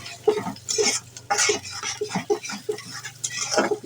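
Chopped onions for a bottle gourd greens and bean bhaji are stirred in a pan, with repeated scraping and clinking strokes of a utensil over a low, steady hum.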